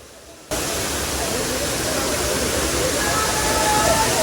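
Gandhi Falls, also called Kannegundi Falls, near Bhatkal: a loud, steady rush of falling water that starts abruptly after a brief quieter moment, then roars continuously and close at hand without a break.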